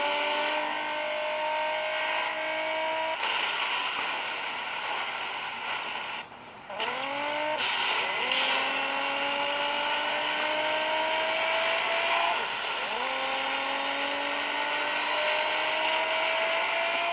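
Racing cars in the Asphalt 7 Heat video game, engines revving and gear tones sweeping upward repeatedly with drift and boost effects, loud and continuous over game music, with no voices.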